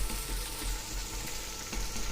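Cut mushrooms frying in a pan with soft, well-cooked tomatoes, a steady close sizzle with faint stirring scrapes and no talk over it.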